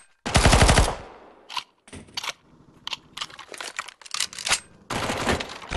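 Automatic weapon fire in CS:GO's zombie survival mod on the zm_playtime_v2 map: a long opening burst followed by several shorter rapid bursts and single cracks, loud and close, with brief gaps between volleys.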